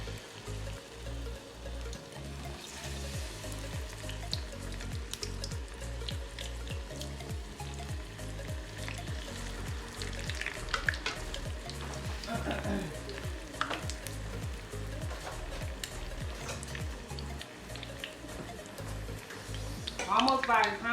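Battered shrimp sizzle and fry steadily in a pan of hot oil, a continuous bubbling crackle that runs throughout, with a person talking over it close to the mic.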